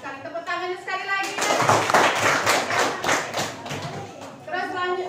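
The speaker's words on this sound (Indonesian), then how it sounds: "Tepuk tangannya sekali lagi." Classroom of junior high students clapping their hands together for about four seconds, a dense mid-loud burst of claps with thumps, framed by speech before and after.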